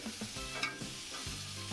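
Eggplant pieces are lightly fried in oil in a pan, giving a soft, fairly quiet sizzle broken by a few brief clinks and scrapes of a spatula.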